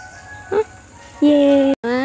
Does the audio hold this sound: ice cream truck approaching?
yes